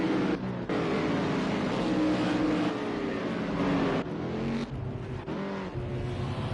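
Race cars crowd pit road during a German GP in a racing game, engines droning and revving close by in a steady, loud wash with a few brief shifts and drops in pitch.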